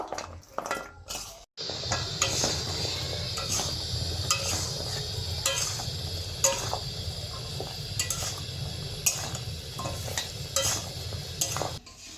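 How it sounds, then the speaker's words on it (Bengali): Gaja pastries being stirred into thick, boiled-down sugar syrup in a pan, heard as a steady, close bubbling sizzle with repeated scraping and clinking of the spoon against the pot, continuous for most of the stretch after a brief pause. "এবার আমি এর মধ্যে গজাগুলো দিয়ে দেবো এবার এটাকে আমি ভালো করে মিশিয়ে নেব"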